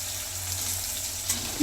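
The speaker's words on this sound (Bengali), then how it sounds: "এবার এগুলোকে ভেজে নেব।" Dried chilli, green chilli and chopped tomato fry in a pan with a soft, steady sizzle, faint and close, with a brief stir near the end.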